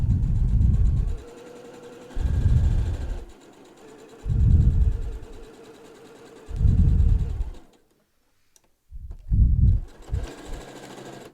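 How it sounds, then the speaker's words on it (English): A sewing machine stitches across the top edge of a reversible fabric mask with ties, running in several close, loud bursts separated by brief pauses and a final run of short stitches. "I'm going to sew across this top part once again, making sure that I get this opening sewn shut"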